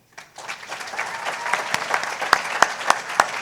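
Audience applause at an awards gala, a dense, loud wash of many hands clapping that starts abruptly and holds steady, with a few sharp individual claps standing out near the end.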